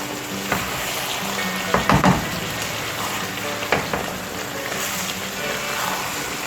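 Hake fish stew is stirred in a pot, a soft simmering sizzle running throughout with a few clattering knocks of the spoon against the pot.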